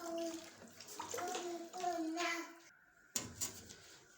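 Milk streams steadily from a container into a cooking pot for kheer, with a loud gurgle and splash. The pour stops briefly, then resumes with a fresh splash. A voice speaks faintly in the background.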